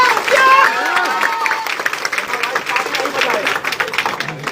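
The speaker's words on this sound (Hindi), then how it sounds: "जोरदार ताली बजा के स्वागत करें।" Loud crowd applause at an outdoor election rally in Aurangabad, Bihar, dense clapping mixed with crowd noise and voices, sustained throughout.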